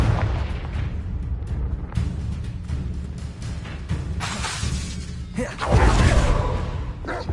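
Confringo fire spell cast in Hogwarts Legacy, with loud booming explosions and whooshing blasts over a dense, continuous battle din, the biggest burst near the end.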